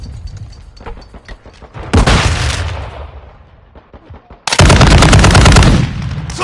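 Loud bursts of video game gunfire and a grenade blast in a military shooter, with sustained broadband roars from about 2 to 3 seconds and 4.5 to 6 seconds and scattered sharper shots between them.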